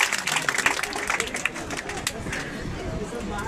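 Audience applause welcoming a guest at a Padma Shri award ceremony, a burst of clapping that starts strong and thins into a softer patter, with crowd murmur underneath.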